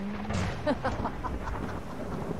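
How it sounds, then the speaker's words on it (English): Thunder rumbles low and continuous under steady rainfall in the Skyrim video game, a dense wash of weather noise with no talking. "looks like it's gonna rain."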